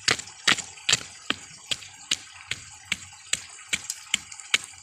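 Soil is pounded by hand to pack and seal a deep rat burrow on a farm, each blow a sharp thud repeated in a steady rhythm, about a dozen strikes heard up close with no talking.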